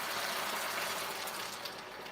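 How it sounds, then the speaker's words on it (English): About 150 milliliters of water poured into a pan of Filipino-style chicken garlic stir fry with shrimps, a steady hissing gush that sizzles and fades slightly toward the end. "We will add around 150 milliliters of water"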